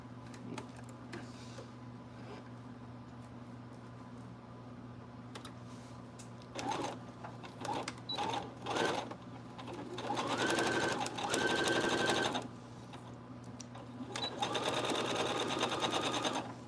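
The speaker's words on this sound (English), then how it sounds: "And then I'm gonna continue sewing on the other side." A sewing machine at a home sewing table, stitching in several bursts of fast, rhythmic mechanical whirring over a steady background hum, with short pauses between runs.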